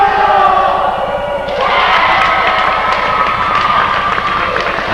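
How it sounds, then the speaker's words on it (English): A home basketball crowd at a high school boys' game yelling and making noise during foul shots, a loud sustained roar with rhythmic stomping or chanting that swells after a moment. "Moriah faithful, trying to make noise while Zach Welch on the line shooting foul shots"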